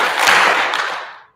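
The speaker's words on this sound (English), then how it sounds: "we're gonna power clap. So let's practice." One loud, sharp clap from a class of schoolchildren at once during an awards assembly, quickly dying away with no voices.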